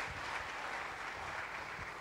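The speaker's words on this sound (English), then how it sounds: "Shall we clap for Jesus?" A church congregation claps together during a sermon service, a steady, fairly soft wash of many hands in a large room with no voices over it.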